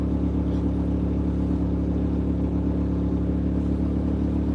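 Vehicle engine idling steadily nearby, a loud constant low hum with strong even tones and no change in pitch, no voices over it.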